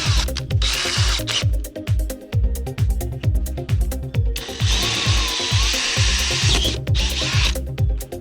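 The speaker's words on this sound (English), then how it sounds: "Then I can drill it straight down with the drill block" A power drill whirs steadily close up, its motor pulsing rhythmically and rising into a higher whine as the bit bites in, drilling straight down with a drill block during a utility trailer kayak mod.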